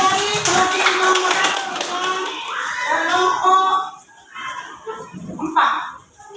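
A classroom audience claps for a group's first performance during a school lesson, a dense burst of hand claps that fades after a few seconds, mixed with children's voices and chatter.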